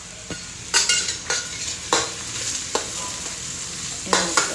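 Cumin seeds sizzle in hot oil in a steel kadhai with a constant hiss, while sharp metallic scrapes and stirring clinks come at irregular intervals, close and fairly loud.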